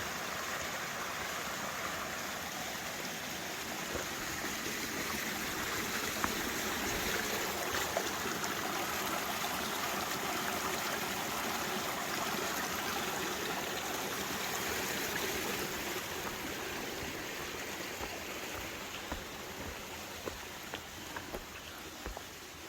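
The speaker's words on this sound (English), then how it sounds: "This is where the AT goes over another stream by Route 4." A stream flows beside the Appalachian Trail near Route 4 in the Vermont woods, a continuous even rush of water with a steady bubbling texture that holds at moderate loudness throughout, with no voices.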